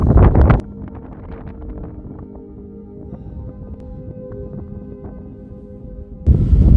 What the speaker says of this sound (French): donc le vent est certainement plus fort.